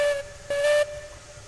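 A steam locomotive whistle in the railroad simulation game Railroads Online gives two short blasts, a brief toot then a longer one, clear and loud over a soft steam hiss.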